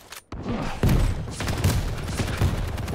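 Heavy shotgun blasts in a competitive 1v1 video game match, three or four booming shots roughly every second over continuous game noise, loud and close.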